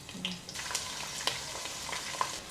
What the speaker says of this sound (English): So we're just going to let the onions fry so it's like translucent and like cooked well.